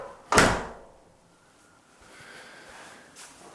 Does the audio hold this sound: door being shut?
yes